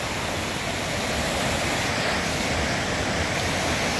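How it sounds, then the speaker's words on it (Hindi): A small river flowing through a Swiss town, a steady broadband rush of water that stays loud and unbroken throughout with no voices. "दरिया बह रहा है"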